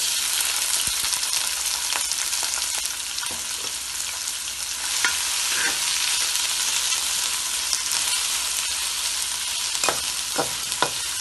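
Onions sizzle and fry in about two serving spoons of hot oil for a lauki sabzi, with a steady broadband hiss throughout and occasional sharp crackles and spoon-stirring clicks. No one speaks.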